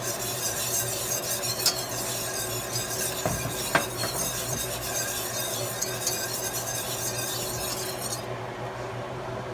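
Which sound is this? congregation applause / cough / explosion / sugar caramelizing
sugar caramelizing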